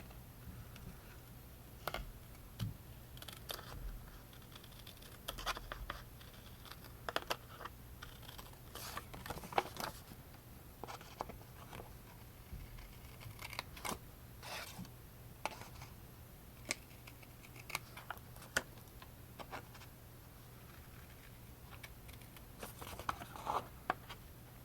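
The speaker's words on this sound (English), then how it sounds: "I'm just going to cut around the envelope." Paper being cut around an envelope with scissors, quiet irregular snips and rustles, close up, over a faint hum.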